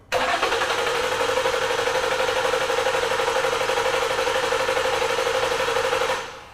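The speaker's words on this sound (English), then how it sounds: "We'll hit continue, and then we'll go ahead and crank it over." A 2014 Lincoln MKZ with a 3.7L engine and a misfire fault cranks over in clear flood mode, giving a steady, loud, continuous whirring churn for about six seconds before stopping abruptly.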